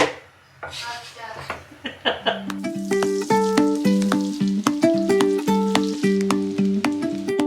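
Food fries in hot oil for a Maggi pasta dish with a bright, steady sizzle. Rhythmic clicks and a run of stepped tonal notes play over it.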